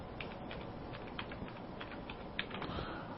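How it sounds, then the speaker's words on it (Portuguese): Keys on a computer keyboard clatter in quick, irregular bursts of taps over a faint steady hiss, close and fairly quiet, with no voices. "E vou digitar aqui em cima"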